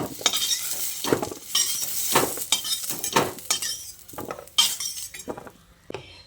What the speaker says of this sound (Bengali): এবার এই আলু ভাজাগুলোকেও একটা পাত্রে তুলে নিচ্ছি।